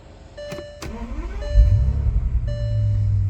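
A 2006 Bentley Flying Spur salvage car starts up: a couple of sharp clicks and chimes, then the engine cranks, catches and settles into a steady, close idle, with cabin chimes sounding over it.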